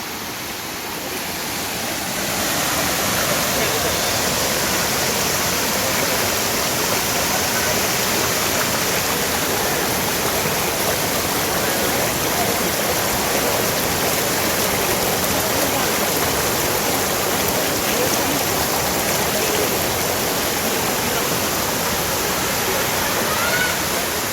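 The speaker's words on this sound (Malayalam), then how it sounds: "എന്റെ പിന്നിൽ കാണാണ് വട്ടായി വാട്ടർഫാൾ" A steady, full roar of falling water at Vattai waterfall, constant and broadband, with the rushing continuing unbroken throughout.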